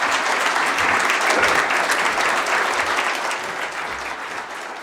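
An audience at a Veterans Day ceremony at a community college claps in a full, dense round of applause that stays strong, then gradually softens near the end.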